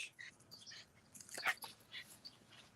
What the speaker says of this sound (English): Somebody come get this dog.